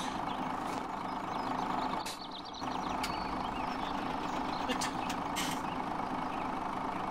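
A truck in Farming Simulator 17 idles with a low steady engine drone while faint reversing beeps and a brief hiss like an air brake cut in, heard alone without talk.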